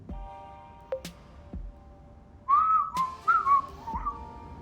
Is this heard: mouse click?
no